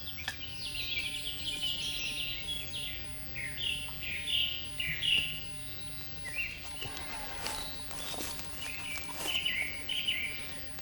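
Several birds sing in a spruce forest, a lively chorus of bright chirps and warbling phrases at moderate distance, repeating over a quiet background.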